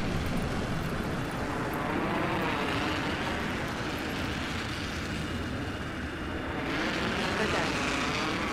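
Jet dropship from the game Apex Legends flying, a steady broadband engine roar that holds loud throughout and swells near the end, with speech faintly present.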